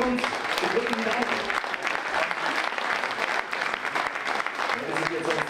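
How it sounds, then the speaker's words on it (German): Applause at a women's épée fencing World Cup final in Leipzig, a dense, continuous clapping from the crowd throughout, with a speaking voice faintly running underneath. "Darauf noch Applaus"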